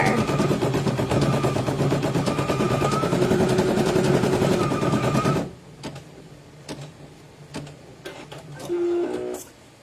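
An embroidery machine stitching pageant wear runs with a steady, rapid mechanical whir for several seconds, then stops abruptly, followed by a few short clicks and snaps as the jump thread is automatically trimmed and the hoop repositions.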